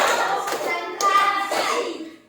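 Classroom children clap hands to a counted pattern, a few distinct claps spaced roughly half a second apart amid young voices chanting, fading out at the end.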